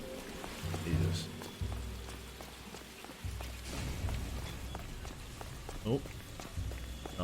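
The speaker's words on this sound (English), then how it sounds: "nice rain texture there" Steady rainfall patters in the game L.A. Noire, a constant wash of drops that sits under brief speech and the other game sounds.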